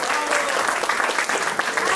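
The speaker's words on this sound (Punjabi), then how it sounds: "ਦੂਜੇ ਜੋ ਨਾ ਤਾੜੀ ਮਾਰੋ ਯਾਰ" Dense, lively applause from an audience fills the whole moment, loud and close, with rapid overlapping claps and a faint crowd murmur underneath.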